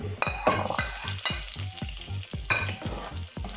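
Onions frying in a pan for a chicken gizzard masala, with a steady broadband sizzle broken by regular scraping stirs of a spatula, close and fairly loud.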